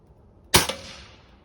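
A single sharp crack from a Xisico XS46U under-lever air rifle firing, close and loud, with a quick second snap and a short ringing decay afterward.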